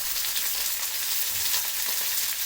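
Leaves fry in a pan with salt and turmeric, giving a steady, dense sizzle that holds unbroken at close range.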